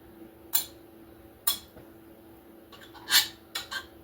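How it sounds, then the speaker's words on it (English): A butter knife trims the pastry edge of a homemade spinach quiche, producing several quiet, sharp clinks and scrapes against the dish at irregular intervals over a low steady background hum. "cutting off the edge with a knife, just a butter knife or regular table knife"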